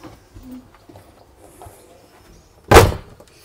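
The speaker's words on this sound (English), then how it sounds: "I'll just close the door behind me." A single solid thud as the door of a 2005 Nu Venture Rio camper van is pulled shut from inside, close and loud after a few seconds of quiet interior rustling.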